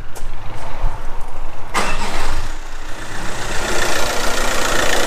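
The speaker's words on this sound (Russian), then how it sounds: "Вот, только завелась машина" A car fitted with a hydrogen carbon-cleaning machine cranks briefly, catches with a loud start, then settles into a steady close idle.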